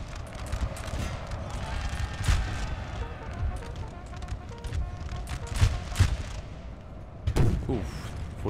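Scattered musket volleys and booming artillery blasts roll through a busy battle din in Napoleon: Total War, with sharper bursts standing out near the middle and toward the end.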